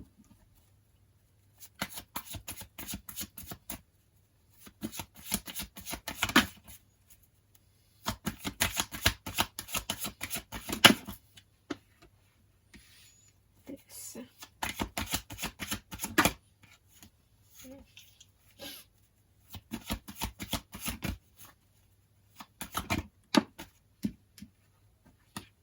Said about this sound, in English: I'll pick the cards.